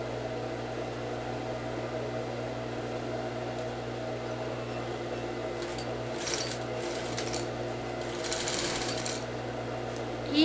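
A sewing machine stitching a seam on a corset fitted with boning, a steady close mechanical whir with a constant hum and brief brighter rattling bursts toward the end.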